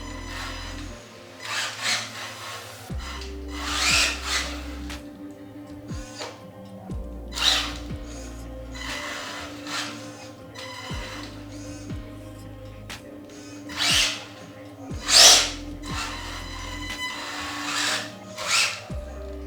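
Body shell of a Tamiya M05 hop-up RC car rubbing on the front wheel as it runs, a scraping, whirring rub that rises and falls in repeated bursts of motor and tyre noise, fairly close.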